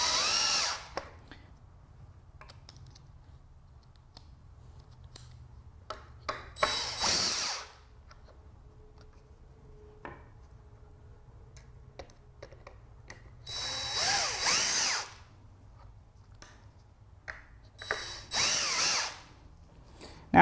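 Power drill driving screws into pallet wood held in a jig while building a pallet smokehouse, three loud whirring bursts of a few seconds each separated by quiet gaps with faint handling clicks.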